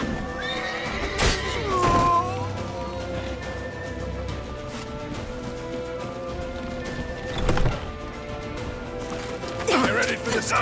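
A horse whinnies and its hooves clip-clop amid a busy street chase in the video game The Witcher 3, with loud shouting voices, scattered crashes and a low music bed underneath.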